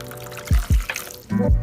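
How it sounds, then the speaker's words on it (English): Three-quarters of a cup of water poured into a big bowl of gardening growing pellets, heard as a few short, close splashing gushes with brief gaps between them. "I grabbed a big bowl and the growing pellets, and then I added 3/4 of a cup of water."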